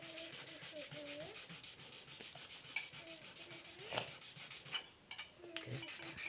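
An eyeglass lens edge is rubbed back and forth on a whetstone in quick, steady gritty strokes, with a brief pause near the end before the scraping resumes.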